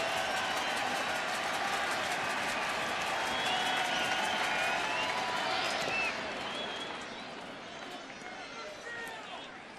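A baseball stadium crowd murmurs and cheers in a broad, steady roar that swells and then eases off toward the end, with voices talking over it.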